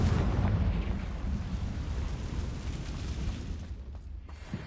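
A sustained, rumbling Confringo fire-spell explosion in the Hogwarts Legacy video game, dense and broadband, fading slightly toward the end.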